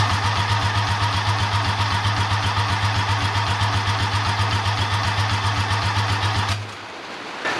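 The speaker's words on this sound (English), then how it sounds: "gonna try to start it on a bottle, see what the heck happens" A rotary engine on a ground stand cranking over steadily with a rapid, rhythmic starter chug while being started on a bottle, never firing, then abruptly stopping near the end.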